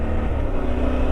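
Yamaha Tenere T7 motorcycle pulling away, a steady low engine drone heard close up from the rider's position, brief and continuous.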